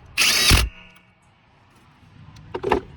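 A power tool, likely an impact driver, tightens a 10 mm bolt on the upper radiator hose bracket behind the hood latch of a Nissan during A/C compressor replacement, one loud close half-second burst and then a shorter rattling burst.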